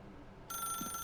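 A telephone in the game The Stanley Parable starts ringing abruptly halfway through, a steady electronic trill over a quiet low room hum, with no voices.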